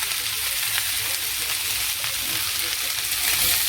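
Vegetables frying in a pan with salt, turmeric, chili powder and coriander powder, giving a steady, close, continuous sizzle without pauses.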